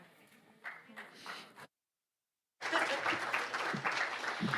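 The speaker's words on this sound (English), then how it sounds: "So many claps this morning" An audience applauding at a live church service in St. Augustine. Clapping runs briefly, cuts to a moment of silence, then returns as fuller, sustained applause with scattered cheers.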